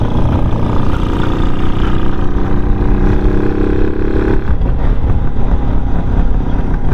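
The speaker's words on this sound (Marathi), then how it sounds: "ती राजदूत आहे, फर्स्ट टाईम राजदूतवर राईड करतो आहे. फायरिंग पण एकदम जबरदस्त आहे." A modified Rajdoot 175 cc motorcycle thumps loudly and close while being ridden, its engine firing steadily with a rising tone before easing off near the end, mixed with wind rush.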